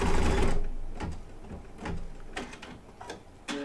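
An embroidery machine stitching a back stitch on a festive quilt block, giving a loud burst of rapid mechanical whirring at the start, then quieter intermittent needle clatter and clicks.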